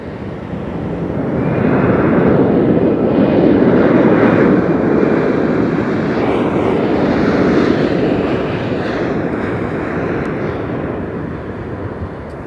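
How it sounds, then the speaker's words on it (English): A Delta Airlines Airbus A319 lands at Las Vegas Harry Reid International Airport, arriving from Los Angeles, its jet roar swelling loud and broad as it passes nearby, then easing into a steady fading rumble. "this was Delta Airlines flight DAL 1438 coming in from Los Angeles, coming in from LAX. And this was going to be an Airbus A319"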